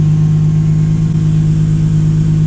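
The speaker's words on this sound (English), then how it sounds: "gonna give this a quick test drive, see how it feels on that gas" A 900hp Nissan 370Z running on methanol drones at a steady, loud engine pitch from inside the car during a test drive, holding constant throughout.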